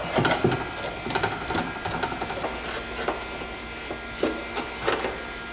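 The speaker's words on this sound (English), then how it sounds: "Get all these screws out." A power driver removing screws: several short whirring bursts separated by brief pauses, close and moderately loud over a low background hum, with no talking.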